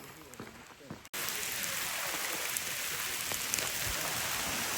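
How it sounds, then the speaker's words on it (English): Steady rain falls along a road near Curry Village in Yosemite National Park, a dense, even hiss of drops close by that starts abruptly after a second of quieter ambience and continues without a break. "It's raining now."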